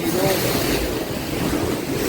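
Sea waves wash onto a rocky shore near Diu, a continuous rushing surf mixed with gusty wind buffeting the microphone.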